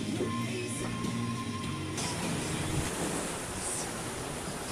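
Strong wind roars steadily while rough sea surf washes around a sailing boat off Corsica, a continuous loud blustery rush with no voices.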